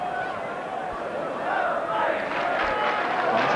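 Football crowd at a Barnsley v Millwall match in 1980, a dense, loud roar that swells and holds steady, with no clear talk over it.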